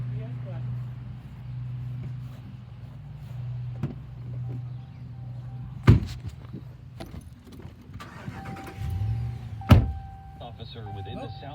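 A car idles with a low steady engine hum while people talk inside, broken by door thunks, a jangle of keys, a power window whirring and two sharp knocks.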